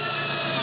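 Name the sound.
power drill drilling wood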